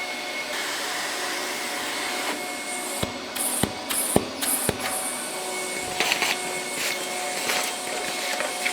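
Dust extraction vacuum pulling suction at a miter saw, a loud continuous airy roar with sharp clicks and knocks from fittings partway through.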